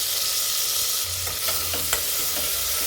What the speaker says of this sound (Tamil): வெங்காயம், பூண்டு, தக்காளி எல்லாம் நல்லா வதங்கட்டுங்க.